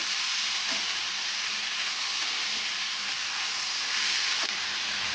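Chopped tomato sautés in a pan for a dhaba-style milk shevbhaji gravy, giving a steady, dense, close sizzling hiss that barely changes, with no talk.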